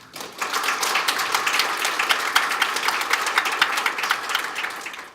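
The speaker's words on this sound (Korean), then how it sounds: "기록원 관계자 여러분들께도 박수 한번 주십시오" A conference audience at a records management event claps steadily for about five seconds, a bright, crisp patter of many hands close by, with no voices over it.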